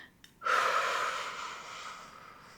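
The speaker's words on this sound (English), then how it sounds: "do a really big breath outwards first" A single big deliberate exhale outward, pushed out at the start of a box-breathing exercise; a long steady breathy rush that begins suddenly and slowly fades, close to the listener, with no talking.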